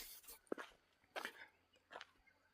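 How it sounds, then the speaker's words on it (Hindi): A lone dog near a tiger reserve gives a few short, scattered barks or yelps, spaced apart and fairly faint, with some background rustle. "अकेला कुत्ता है तो कोई खतरा नहीं है"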